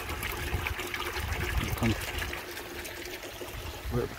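Water pours and trickles steadily into a koi pond, a close, continuous splashing with faint voices murmuring underneath.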